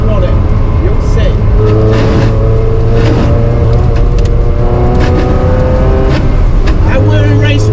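Ferrari 360 CS driving along a wet road with heavy surface water, engine droning steadily up close with tyre hiss and splash, while someone talks over it throughout.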